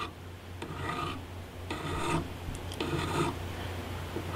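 A KuduPoint broadhead is sharpened with a cylindrical hone in push-and-sweep strokes under light pressure, giving three quiet, rhythmic rasping scrapes in a row, each about half a second long, close and faint with no talk.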